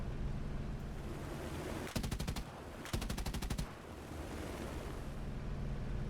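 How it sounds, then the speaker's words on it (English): A 20mm aircraft cannon fires two short, rapid bursts in air combat over El Salvador, loud staccato rattles separated by a brief pause, over a steady low rumble. "fire short bursts from the 20mm cannons"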